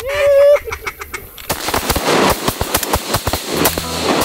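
Shotgun blasts fired at teal ducks during a hunt in willows, a series of sharp, loud cracks in quick succession after a brief duck call at the start, with rustling between shots.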